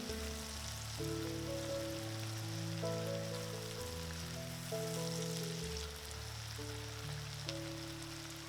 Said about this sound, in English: The onions will sizzle beautifully